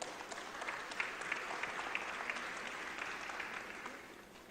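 Steady applause from the audience at an international forum of political party representatives, an even patter of many hands that holds at a moderate level and tapers slightly at the end.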